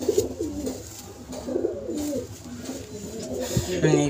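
A pigeon coos in soft, low, repeated throaty phrases close by, with a light background hum throughout.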